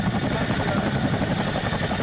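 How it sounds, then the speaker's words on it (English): A CH-47 twin-rotor helicopter hovers with a steady, dense engine and rotor roar holding at constant loudness throughout, a faint rhythmic chop running under the drone and a high whine on top. "One of my favorite sounds is a CH-47, which is this like 2 propeller helicopters"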